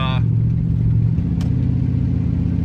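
A HEMI V8 Dodge Charger Pursuit fitted with electric exhaust cutouts rumbles loudly and steadily, its low engine and exhaust drone continuous throughout, with a brief higher whine at the start.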